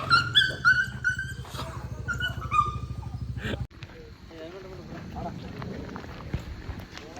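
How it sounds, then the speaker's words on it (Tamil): Dogs bark and whimper loudly for the first few seconds, with a growling undertone, then the sound drops to quieter outdoor background noise with some murmuring voices, on a rainy-weather outing in Palakkad, Kerala. "இந்த நாய்ங்க வேறு சும்மா ரவுண்ட் அடிச்சுட்டே இருக்குது."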